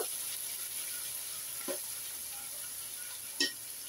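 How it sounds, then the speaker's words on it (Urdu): Garlic ginger paste sizzles with browned onions in a hot pan while being stirred, a steady close frying hiss broken by two brief scraping clinks. "اس کو 2 منٹ کے لیے بھونیں گے۔"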